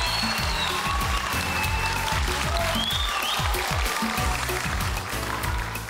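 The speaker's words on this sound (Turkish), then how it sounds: "Şenol İpek izleyicimizden iyi alkış aldı" A studio audience on the Turkish dance competition show Yok Böyle Dans applauding a contestant, loud dense clapping that runs steadily throughout with no talking over it.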